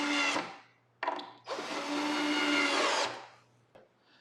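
Screws driven into pre-drilled holes while assembling a fireplace mantel surround frame, three bursts of a close power driver whirring, the last and longest lasting about a second and a half, with short pauses between.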